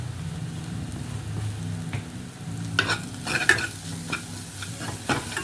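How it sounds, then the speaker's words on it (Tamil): Onion masala with tomato and green chilli sautés for paneer dosa in a pan, a steady close sizzle under repeated scraping stirs of the spatula against the metal. "நல்லா வதக்கிக்கிடணும் வதங்கட்டும் 2 மினிட்ஸ்"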